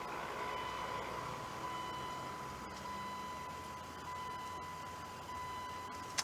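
A truck's ignition switched on while its electric fuel pump primes a newly changed fuel filter: a steady, close mechanical whine and hum with a thin continuous tone running throughout, and a small click at the very end.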